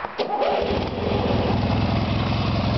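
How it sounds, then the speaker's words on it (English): A tractor-mounted snowblower's engine starts with a brief crank, then settles into a loud, steady chugging idle close by. "I don't recommend running a snowblower while not on the tractor."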